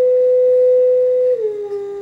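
A steady pure tone from an iPad plays through the speakers of a flame tube, holding one pitch for over a second before sliding slightly lower and continuing, loud and close.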